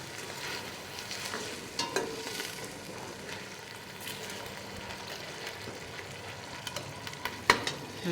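Oil sizzles and fries in a pan, a soft steady crackle close by with occasional clinks and stirring knocks, no voices over it.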